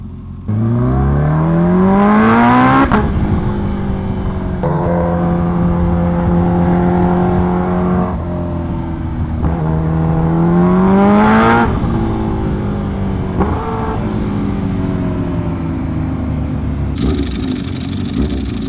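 Kawasaki H2R supercharged motorcycle accelerating onto a freeway, its engine loud and close, rising in pitch through repeated gear pulls with brief dips at each shift.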